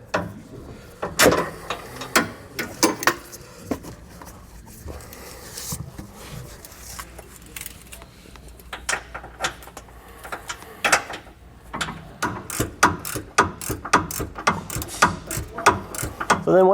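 Hand ratchet wrench clicking in quick, uneven strokes while tightening a nut on a truck frame during a helper-spring installation, close and crisp, with short pauses between bursts of ratcheting.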